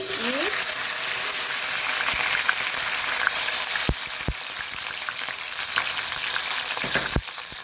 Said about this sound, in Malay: Kita nak goreng tu rempah-rempah kita tadi.